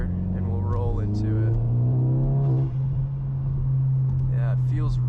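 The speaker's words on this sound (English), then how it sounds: "We'll keep this car in third gear and we'll roll into" Car fitted with an IS38 turbo held in third gear, a low steady engine drone beneath someone talking from inside the cabin.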